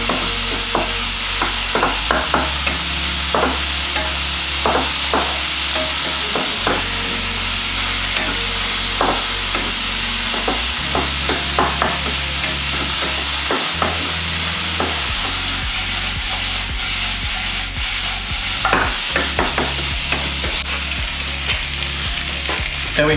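A vegan snack is stir-fried with mushroom sauce, giving a loud continuous sizzle with frequent scraping and stirring knocks from a utensil against the pan and no talking.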